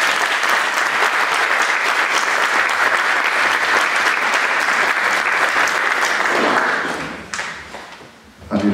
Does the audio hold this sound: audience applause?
yes